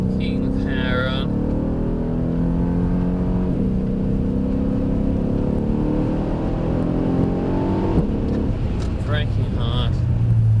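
A Mercedes-AMG car powering out of a corner on track, its engine note rising and holding loud and close, with talk running over the top.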